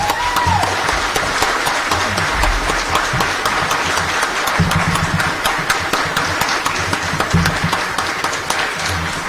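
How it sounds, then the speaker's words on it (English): Audience at a Republican primary candidate forum in Washington County applauding, a dense sustained wash of clapping from a roomful of people, loud and continuous over a low background hum. "Let's give them a round of applause."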